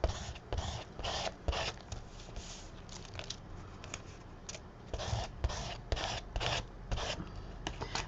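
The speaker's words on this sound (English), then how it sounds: "so I just scrape that off." A tool scrapes excess off a mixed media collage art card in repeated short rasping strokes, close and fairly loud, with no talk.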